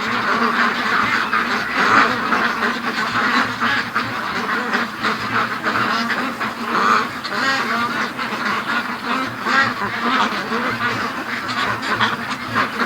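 A flock of ducks quacking noisily and continuously as they crowd into their pen at dusk, many overlapping calls close by with a few goose-like honks mixed in.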